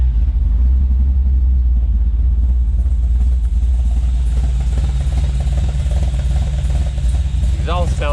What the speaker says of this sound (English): Exhaust sounds a little weird